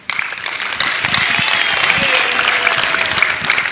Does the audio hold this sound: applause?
yes